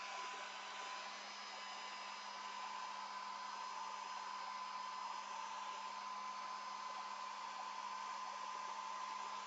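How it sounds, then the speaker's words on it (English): A hair dryer blows steadily and continuously at close range over a Gelli plate monoprint, an even whooshing hum with a faint whine and no voices. "The worst part about it is my hair dryer"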